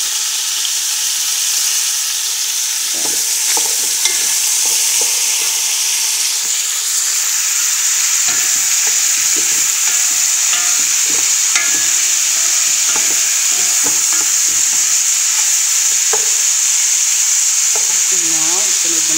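Tomatoes fry and sizzle loudly in a pan for a dish of pork with white beans, a constant bright hiss broken by repeated scraping and clinking of a utensil stirring.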